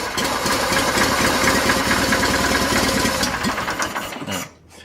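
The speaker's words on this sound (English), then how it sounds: "Now it's running off what we primed in it." A broken John Deere 318 garden tractor engine with a mechanical choke runs on primed fuel, chugging loudly and rhythmically up close, then sputters and cuts out near the end.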